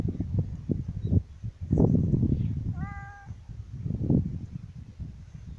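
A pregnant cat meows once, a short wavering cry, amid nearby rustling and handling noises.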